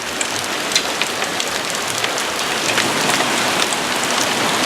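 Hail pounds a house roof during a fast-moving storm, a dense, steady clatter of countless impacts with scattered sharper hits, loud and continuous throughout.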